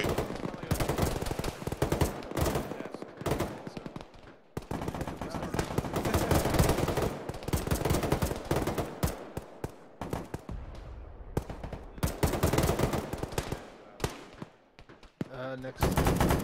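Heavy sustained gunfire in the military game Arma during a ShackTac squad fight, with dense machine-gun bursts and single shots almost continuously, loud and layered, with voices talking over radio now and then.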